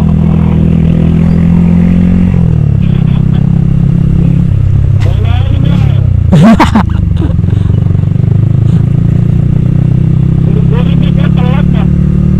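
A motorcycle engine revs and drones loudly and close throughout while riding, with wind buffeting the microphone, a clattering burst midway and people speaking over it.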